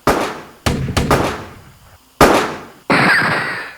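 Police gunfire in a comedic hostage scene: four sharp, loud gunshot-like bangs, three clustered early and one later, each ringing out briefly, with no talk.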